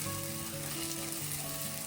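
Beaten egg fries in a pan for egg rice, a continuous close sizzle with steady crackle and no talk over it.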